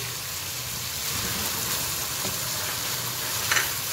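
Ginger and garlic hit browned onions in a pot for vegetable biryani, giving a dense, steady hiss of frying close by, with faint stirring scrapes underneath.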